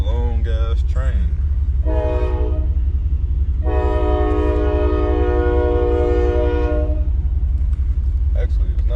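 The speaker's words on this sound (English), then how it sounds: "I gotta wait on this long ass train." A long passenger train rolls past at a crossing with a steady low rumble, its horn sounding in loud sustained blasts, the longest lasting several seconds, while someone talks briefly.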